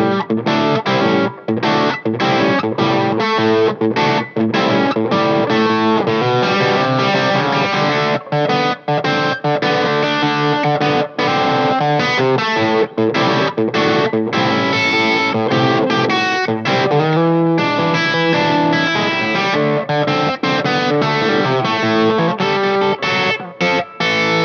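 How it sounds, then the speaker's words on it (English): Electric guitar through a RedSeven amp on its first gain stage, playing a basic blues rhythm tone with distorted, driven chords in a steady strummed pattern, loud and continuous with no talking. "So this one I would use for just some sort of a basic blues rhythm type of tone."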